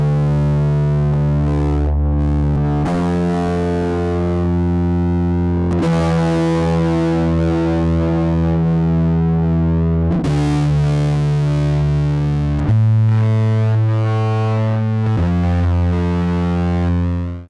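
An electric guitar plays through a Polar Bear Effects Drowner distortion pedal, loud sustained chords with a thick, saturated tone, changing pitch every few seconds and ringing out alone without talk.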